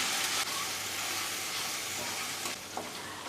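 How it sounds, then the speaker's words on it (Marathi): Green chili, crushed garlic and asafoetida tempering sautéing in a pan, giving a steady, close, full sizzle with faint stirring scrapes and no talk. "आता हे थोडंसं आपल्याला परतून घ्यायचं आहे"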